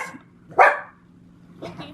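A small dog lets out a single sharp bark, followed by a softer second yip, against a quiet background.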